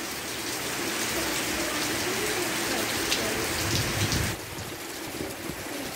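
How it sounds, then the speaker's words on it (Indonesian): Heavy rain pours steadily in a dense, loud hiss, drumming on a surface throughout with no voices. "Aduh, hujan parah."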